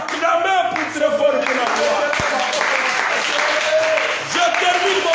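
A church congregation applauding loudly during a sermon, a dense wash of clapping that runs the whole time beneath a preacher's voice speaking over it.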